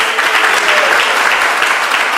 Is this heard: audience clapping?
yes